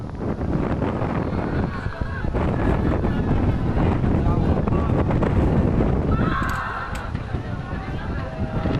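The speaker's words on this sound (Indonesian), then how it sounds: "Dari video amatir, terlihat angin puting beliung berputar di atas tambak hingga ke atas rumah warga Desa Karanganyar" A tornado whirls over fish ponds and village houses in Karanganyar, Sumenep, East Java. Loud, constant wind roar batters the microphone throughout, with voices faintly mixed in.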